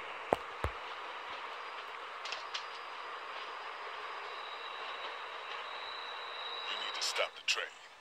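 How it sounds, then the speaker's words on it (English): A train rolls along in a zombie adventure game, a steady rumbling wash with faint wheel squeal, under a few sharp clicks and some louder clattering near the end. "Stop the train."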